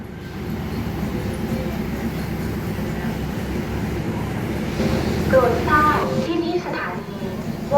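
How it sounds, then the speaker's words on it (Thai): A Thai railway train at Wongwian Yai station in Bangkok, service 4317 to Mahachai, gives a steady rumbling roar throughout, growing slightly louder near the end, with faint brief squeals. "ก็จะออกจากสถานีวงเวียนใหญ่ เป็นขบวน 4317 วงเวียนใหญ่มหาชัย"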